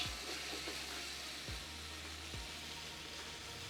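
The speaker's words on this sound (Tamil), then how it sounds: "இப்போ பார்த்தீங்கன்னா இஞ்சி பூண்டு போட்டு நல்லா ஃப்ரை ஆகிடுச்சு" Ginger garlic paste fries in oil for chicken biryani with a steady, soft sizzle that holds evenly throughout, joined by a low hum and a couple of faint knocks.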